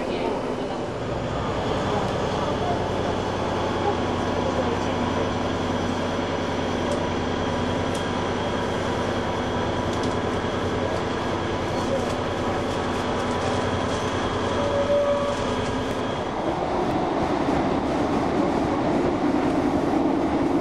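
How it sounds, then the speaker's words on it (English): A First Great Western passenger train rumbles along steadily with a low mechanical drone and track noise, a faint squeal rising briefly before the sound shifts near the end. "This is a first Great Western train again."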